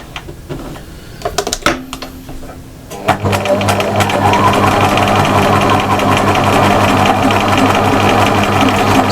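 A sewing machine stitching appliqué grass fronds on a mushroom-house cushion starts with a few short bursts and clicks, then settles into a loud, continuous whirring run of rapid stitches.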